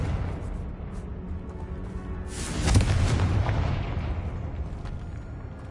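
In the Hogwarts Legacy video game, the Confringo explosive spell detonates with a deep, rumbling boom that swells midway through and fades slowly, heard over a steady background of game ambience.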